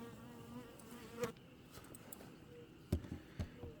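Honeybees inside a hive make a low, steady drone, with a few louder buzzes from individual bees passing close to the microphone, quiet overall and without speech.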